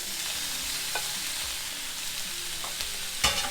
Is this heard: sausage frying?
yes